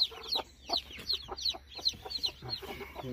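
A hen clucks repeatedly in a rhythmic series of short, sharp calls, close and moderately loud, with faint higher chirps around her.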